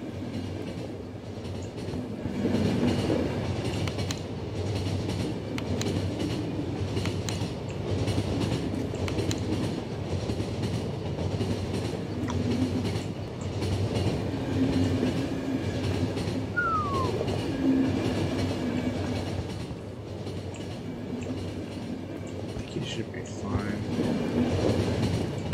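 Train rolling along in The Final Station, a steady low rumble and rattle of wagons that runs throughout, with occasional faint squeals and clatters on top.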